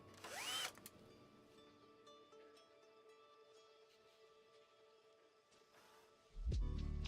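An electric screwdriver drives screws into a PC case during assembly, with two brief whirring bursts, one at the start and one at the end, and a quiet room between.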